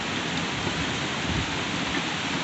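Steady heavy rain pours during a summer thunderstorm in Ohio, a dense even hiss that fills the clip with low rumbling underneath and no voices.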